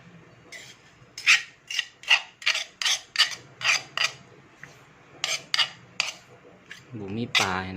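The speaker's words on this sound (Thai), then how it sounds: "ตักเลยพี่น้องใส่จานเรียบร้อย" A spoon scrapes pounded bean salad onto a dish in a run of about a dozen quick, rhythmic scooping rasps, close and fairly quiet, with a brief voice at the very end.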